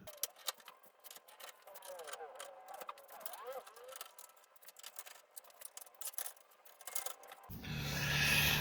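Gold-coloured screws being worked loose and lifted out of a Roland U-20 keyboard's casing, small scraping and metallic clicks close by, with a clatter near the end.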